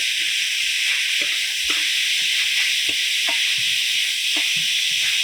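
Grated carrot and beetroot with cumin and green chillies fry in hot oil, giving a constant loud hiss broken by soft scraping taps as the mixture is stirred nearby.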